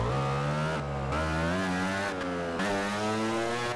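Racing motorcycle engine in the MotoGP 15 video game, loud and continuous, revving with rising pitch and dipping briefly as the throttle eases twice.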